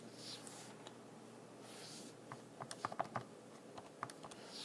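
Quick light taps as numbers are punched into a calculator, a short irregular cluster of soft clicks, close and faint against a quiet background hiss.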